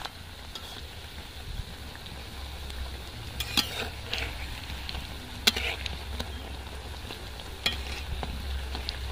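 Nimki pastry frying in moderately hot oil in a pan over a medium flame, giving a steady close sizzle with occasional sharp clinks and stirring scrapes.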